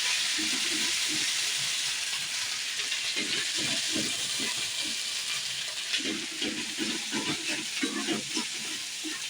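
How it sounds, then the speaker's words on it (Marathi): Masala paste sautéing in a kadhai for surmai fish curry gives a steady hiss and sizzle, with soft irregular stirring scrapes throughout. "वाटण अशा पद्धतीने चांगलं असं परतवून घ्यायचं आपण तव्यावर कढईमध्ये"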